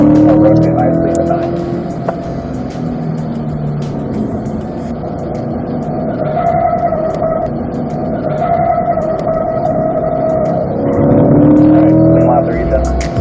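A Chevy C8 Corvette driven at speed on a race track, its engine a loud, steady drone that swells under throttle near the end, while a voice talks over it throughout.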